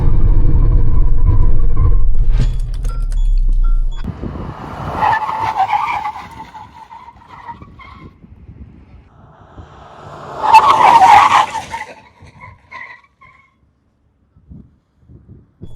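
A petrol SUV brakes hard from 100 km/h in a braking test, with a loud engine rumble at first, then tyres skidding and squealing for several seconds and a second strong squeal burst before it fades to quiet.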